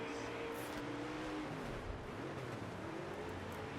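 A sprint car engine in the World of Outlaws racing game drones steadily, with its pitch wavering as it stumbles briefly before picking back up, with other race cars audible around it.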